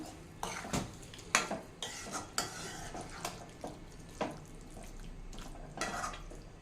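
A spoon stirs ivy gourd curry in a pot after water has been added, giving close, irregular metallic clanks and scrapes against the pot with a wet, sloshing undertone and no speech.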